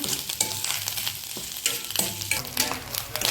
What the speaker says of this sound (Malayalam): ലോ ഫ്ലെയിമിലിട്ട് വേണം ഗൈസ് ഇത് വറുത്താൻ